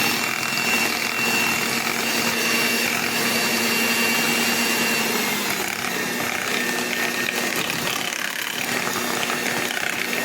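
Stand or hand mixer beating sweet potato pie filling with brown sugar and butter, a steady continuous whirring drone with rattling texture running the whole time, no talking.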